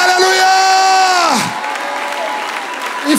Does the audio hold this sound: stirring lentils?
no